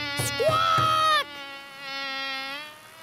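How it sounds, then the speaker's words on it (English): A cartoon bee buzzes in a children's game of naming noises: a high, wavering, tonal buzz preceded by a few sharp clicks, then a quieter sustained drone that fades out. "I can hear another noise. It's a buzzy bee."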